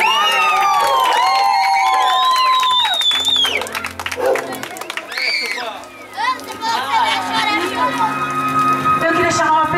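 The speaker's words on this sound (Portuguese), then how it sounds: "Uma salva de palmas para ela." Guests at a birthday party clap and cheer amid children's excited shouts and chatter, with a crowd murmur and music-like tones nearby, the clapping rising and falling under loud voices.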